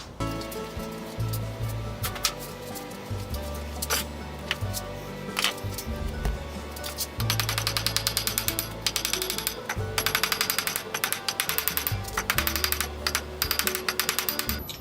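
A metal rod is hammered straight on an anvil: a few sharp, ringing single blows at first, then fast rhythmic strikes in quick runs, heard close up with no talk.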